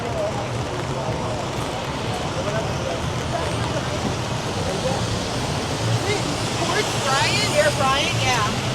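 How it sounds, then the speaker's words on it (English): Rain pours onto a busy Times Square street in New York City, a dense, loud hiss of falling water and wet pavement filling the scene, with muffled city bustle and rising chirpy tones near the end. "But we getting it in the rain."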